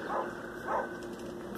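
Dog barking in the background during a Walking Dead Season 1 game playthrough, two muffled barks a little over half a second apart, moderately loud over a steady room hum.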